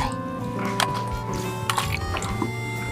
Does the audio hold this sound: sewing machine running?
no